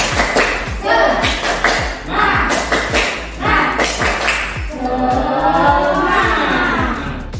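Students in a classroom perform a rhythmic clap cheer: a regular pattern of sharp, close claps and thumps beats under group chanting, with the voices growing louder and more sustained toward the end.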